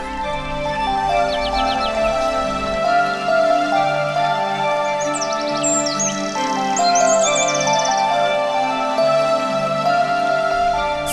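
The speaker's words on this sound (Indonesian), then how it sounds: "Burung-burung berterbangan, melengkapi takdirnya," Birds chirp and tweet in a natural outdoor setting, with short bright calls scattered across the clip over a steady, sustained harmonic backdrop.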